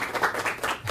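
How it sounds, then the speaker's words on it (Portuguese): Applause from a live audience at a financial coaching lecture, a short burst of many hands clapping together in a dense, steady patter at moderate loudness. "Palmas para ele."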